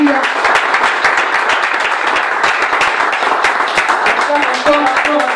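Church congregation applauding and cheering for Jesus after a sermon, steady dense clapping from many hands throughout, with voices calling out over it.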